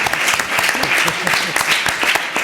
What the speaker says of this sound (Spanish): me alegro de que haya habido aplauso